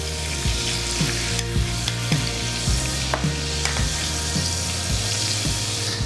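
Lobster sizzling in a hot pan, a loud continuous frying hiss with periodic scraping and knocking thumps as the pieces are turned, steady throughout and without talk.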